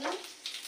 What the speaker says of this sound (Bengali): তেলটা গরম হয়ে গেছে, এবারে তেলটাকে একটু জিরে ফোড়ন দেবো।